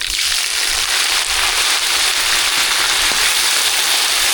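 Curry leaves hissing in hot oil for a coconut chutney tempering, a loud, dense, continuous sizzle with fine crackles close by, holding steady throughout.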